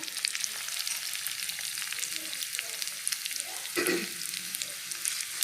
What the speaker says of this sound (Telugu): కరివేపాకు బాగా వేగినాక